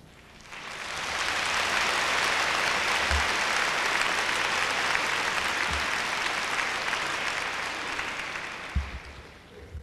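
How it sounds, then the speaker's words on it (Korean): A church congregation applauds in a large hall with a dense, sustained wash of clapping that swells quickly, holds for several seconds and then slowly tapers off. "이제 나와서실 때 박수로 환영해 주시기를 바랍니다."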